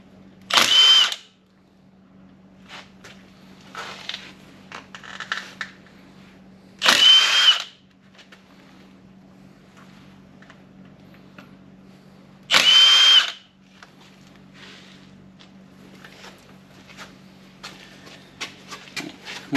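Power tool spinning out the cam sprocket bolts on an LS engine, three short loud whirring bursts spaced several seconds apart, with a steady low hum and small clinks between them in a quiet shop.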